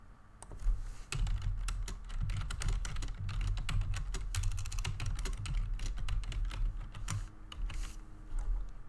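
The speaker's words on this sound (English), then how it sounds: "I cannot copy paste this question, so I'm just typing it" Steady, fast typing on a computer keyboard, close and clear, with dense irregular key clicks running without a break and no talking.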